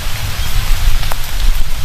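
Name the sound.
heavy rain in a cartoon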